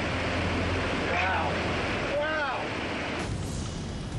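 River water rushes through a breached dam as a steady, close, broadband roar that fills the whole clip, with a voice talking briefly over it.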